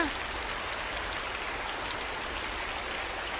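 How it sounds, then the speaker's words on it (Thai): Steady rain in the Roblox game Brookhaven, a dense, even hiss of falling drops that holds at the same level from start to finish with no voices over it. "เมื่อไหร่ฝนจะหยุดตกแล้วเนี่ย"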